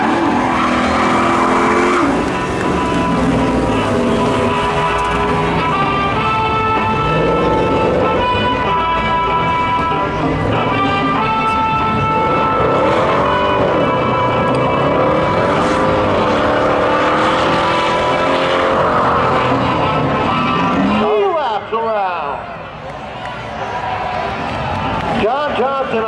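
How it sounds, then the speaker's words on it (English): Two cars, a Camaro and a Stealth, roar side by side down a track at a spectator drag race during a Memorial Day thrill show, their engines loud and continuous under a public-address announcer talking throughout. "they drag race down at the 1 and 2 side by side off the second corner"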